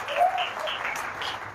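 A church congregation claps hands together during a sermon, a dense, steady patter of applause heard close and fairly loud for a brief moment, with no clear speech over it.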